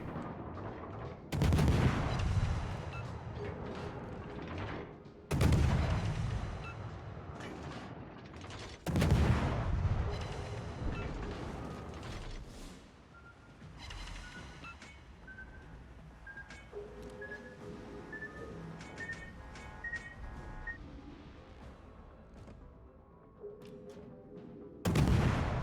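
Heavy cannon shots boom out in a tank battle video game. Three or four loud blasts come several seconds apart over a low engine rumble, with faint beeps and game sounds between them.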